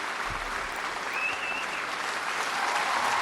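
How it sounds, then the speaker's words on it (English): Stadium crowd roaring and applauding in the Madden 25 football video game, a steady dense wash of cheering held at an even loud level throughout with no talk over it. "Looks like the crowd loves it."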